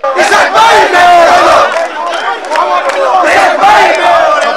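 Crowd of political supporters celebrating after a High Court verdict in Ishraque Hossain's favour, loud close group chanting and shouting in rhythmic bursts.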